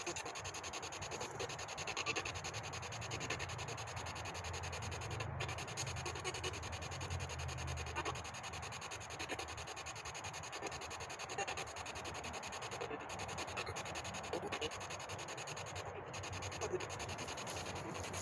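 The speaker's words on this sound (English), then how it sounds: "you're gonna hear a lot of cars driving by, a lot of trucks" Steady, distant traffic from cars and trucks on a major interstate next to a cemetery forms a continuous broadband wash with no distinct pass-bys, heard alone at a low level.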